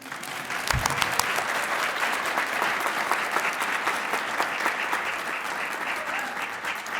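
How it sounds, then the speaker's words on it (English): Audience applause at an award lecture ceremony in a university setting, steady dense clapping filling the room throughout, fairly loud and close, with no talking over it. "You can applaud again."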